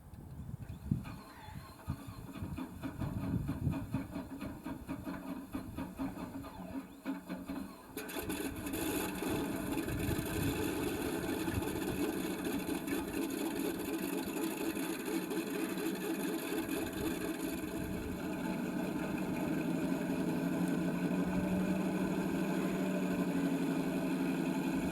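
A Whirlwind helicopter engine starting up and settling to rotor idle, a soft rumble that jumps to a louder, steady whining drone partway through and holds evenly, with no talking.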